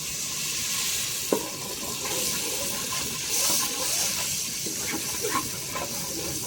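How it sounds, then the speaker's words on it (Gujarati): Water is poured into hot oil with fried chilli in a pan while cooking fish, and it sizzles and bubbles steadily throughout, with a sharp tap near the start and faint stirring clinks. "હવે નાખીએ થોડુંક પાણી."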